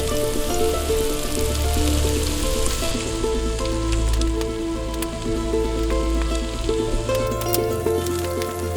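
Onions and garlic fry in a pan inside a wood-fired oven for shakshuka, giving a dense, continuous sizzle with scattered crackles that stays close and loud throughout.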